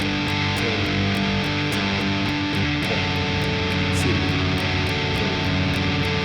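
Steady strummed guitar chords from a song ring out alone in a continuous, even rhythm, with regular bright strum attacks throughout.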